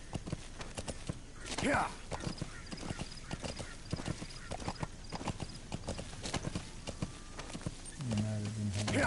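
Horse galloping in the video game Metal Gear Solid 5, brisk repeated hoofbeats clopping close by with a whinny early on, while someone talks over the gameplay.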